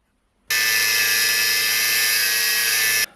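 A power tool cuts metal on a golf caddy being repaired, a loud, steady high-pitched whine that starts abruptly and holds for about two and a half seconds before stopping.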